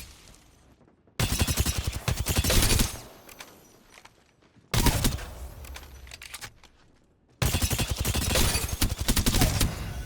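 Automatic gunfire on a video game's shooting range, played with a BIGBIG WON Gale Hall controller: three long, loud, rapid bursts separated by short pauses, with no voices.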